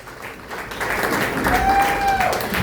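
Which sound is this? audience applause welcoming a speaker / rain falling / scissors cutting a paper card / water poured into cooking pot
audience applause welcoming a speaker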